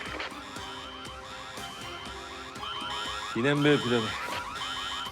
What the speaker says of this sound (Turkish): kasaya müdahale ettiğiniz için alarm sistemi devreye girdi.